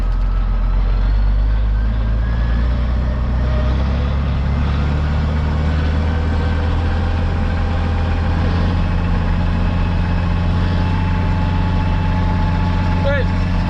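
A silage-season farm vehicle's engine runs with a loud, steady low drone that rises slightly as it revs, then settles back toward idle, continuous and close throughout.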